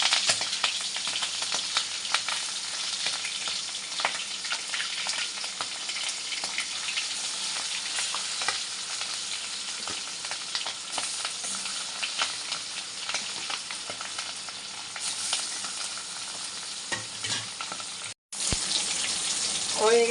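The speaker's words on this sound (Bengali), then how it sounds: "তেল গরম হয়ে গেছে, এবার মাছটা দিয়ে দেব।" Hilsa fish frying in hot oil in a home kitchen while taro and hilsa curry is being made, a steady loud sizzle with crackling that runs without a break, then a brief dropout and a return of the sizzle.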